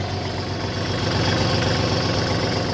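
A Kubota GT23 series compact tractor fitted with a rotary tiller idles steadily and quietly. The engine drones as an even, continuous hum throughout, with no talk over it.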